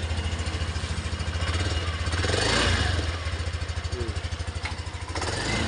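A 2022 Yamaha NMAX scooter engine, just started after a no-crank fault, idles with a steady rapid putter close by, swelling briefly in the middle, with no talk.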